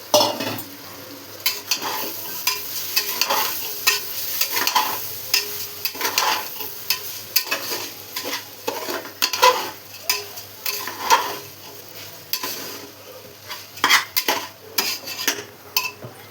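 Rice with moong and toor dal being sautéed in a pan for khichdi, a continuous rhythmic scraping and clattering of a spoon against the pan over a soft sizzle.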